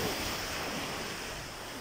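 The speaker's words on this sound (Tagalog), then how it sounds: "nandito kami sa dagat." Sea waves washing at a beach in Sur, Oman, a steady soft broadband wash with light wind noise, faint and continuous with no voices.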